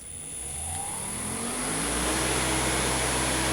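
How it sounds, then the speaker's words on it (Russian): New 1.1 kW, 3000 rpm Kharkiv electric motor running from a frequency converter, a steady loud hum and whine that rises as it spins up, with no voices. "Сейчас включу, покажу, как это работает на двигателе."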